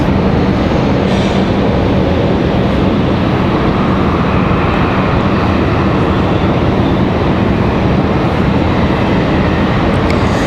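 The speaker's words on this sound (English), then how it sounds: "that beacon, the MD-11. Our final departure of the night." MD-11 departing Raleigh-Durham International at night, a loud, constant wall of engine roar with no letup, heavy low rumble under a broad hiss.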